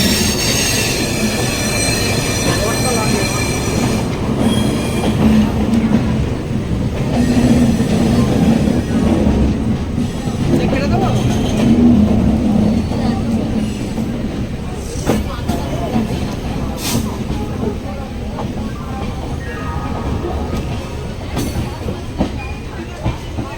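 A passenger train leaving Howrah, Kolkata, rumbles steadily throughout, with wheels squealing on the rails and a faint rattle of the carriages.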